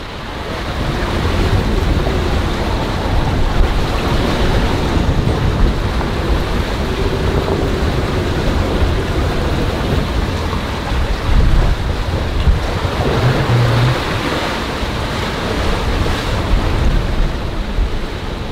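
Big ocean waves and strong wind around a sailing boat on the Pacific: continuous loud rushing wind and water noise with surging swells and buffeting gusts, no voices.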